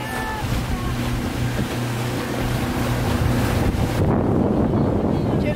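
A boat motor drones on an ocean trip among Miami and the Turks and Caicos islands, with waves splashing and heavy wind buffeting the microphone, steady and close throughout.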